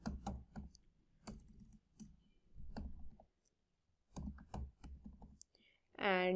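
Code is typed on a computer keyboard in clustered bursts of sharp, close key clicks separated by short pauses, with a brief spoken voice near the end.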